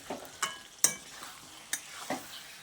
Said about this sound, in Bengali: চিনিটা দিয়ে সবজির সঙ্গে ভালো করে মিশিয়ে নিচ্ছি।